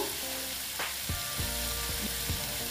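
Ridge gourd sautéing in a hot pan for a vegetarian moong dal dish, giving a steady close sizzle with a few soft scraping stir strokes and light knocks against the pan.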